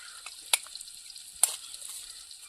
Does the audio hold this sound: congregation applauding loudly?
no